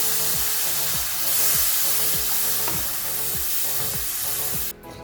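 Tamarind water poured into a hot pan of black sesame gravy, raising a loud, continuous sizzle and bubbling close by that runs steadily for several seconds before cutting off abruptly.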